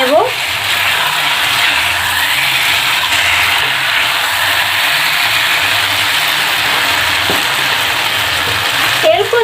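Fried potatoes are stirred into a spiced tomato masala in a pan for a cauliflower and fish curry, a steady close sizzle with scraping of the spatula, while someone speaks over it.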